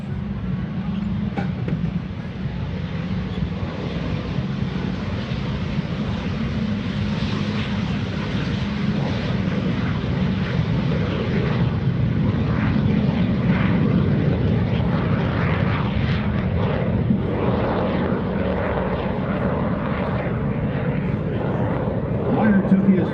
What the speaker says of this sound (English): the T-33 gets ready to take off. Throttle coming forward.